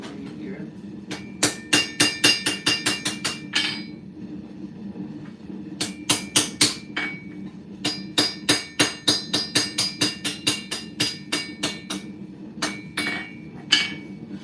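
A hammer forges a Bowie knife. Sharp, ringing blows land in quick rhythmic bursts, grouped into several runs separated by short pauses, loud and close.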